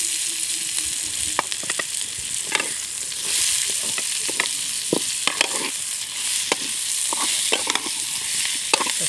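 Bitter gourd fries in oil in a pan while being stirred, a close, steady sizzle with frequent sharp clacks and scrapes of the spoon at an irregular rhythm, no speech.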